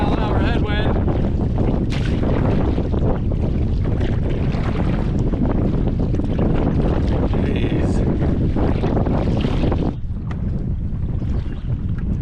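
A strong 20-mile-an-hour headwind roars and buffets loudly against the microphone while canoeing on open water, a continuous rough gusty rush with faint paddle and water sounds beneath.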